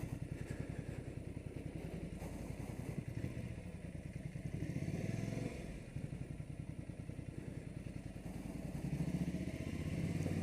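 A Ducati Scrambler Sixty2 rides over rough, broken roads in Kathmandu, its engine thumping in a steady pulsing rhythm with clattering and jolts from the uneven surface, a brief dip midway, heard faintly without talking.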